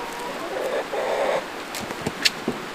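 Chickens cluck and murmur nearby, with a few sharper short calls and scuffling sounds toward the end.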